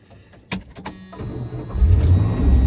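A 1986 Dodge D-150 farm truck cranks over after a couple of sharp clicks, then its engine catches and settles into a loud, steady, rumbling idle close by.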